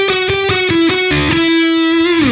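A short distorted electric guitar lead phrase from a solo: quick picked notes, then a held note that bends down at the end, loud and upfront.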